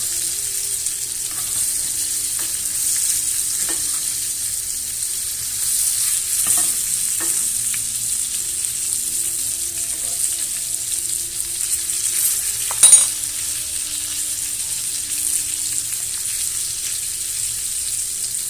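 Rib-eye steak frying in a cast iron pan while being basted with butter, thyme and garlic, giving a steady, loud sizzle throughout with occasional spoon clinks and one brief sharper splash near the end.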